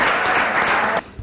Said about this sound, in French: applaudir très fort pour Papa Alaguet